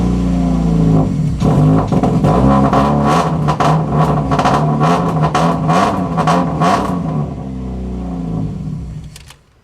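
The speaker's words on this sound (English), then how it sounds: "Let's see if it'll fire up." A car engine missing half its parts cranks, catches and runs roughly with a clutch in, its uneven, lumpy firing pulsing for several seconds at fairly close range before cutting off abruptly; no voices.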